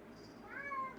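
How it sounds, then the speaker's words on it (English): A house cat gives a single short, faint meow close by, rising and then falling, with nothing else sounding. "Yeah, I hear you, kitty."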